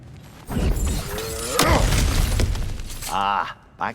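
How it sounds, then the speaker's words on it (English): Objects shattering and breaking apart as a character smashes through them in God of War Ragnarök, a run of crashes and crunches, with brief game voice sounds mixed in. "back to smashing through things for fun and profit"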